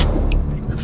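Car keys jangle up close: a brief bright metallic rattle over a low vehicle rumble, loud and short.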